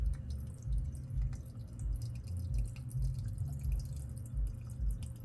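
Rice wine vinegar is poured in a soft, close, dribbling trickle, with an uneven pulsing flow that lasts a few seconds without any talking.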